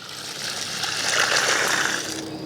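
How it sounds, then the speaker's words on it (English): Chicken blood poured out in a steady, continuous liquid stream, close and fairly loud for a couple of seconds, with no voices. "go grab the blood, we'll pour that in there too"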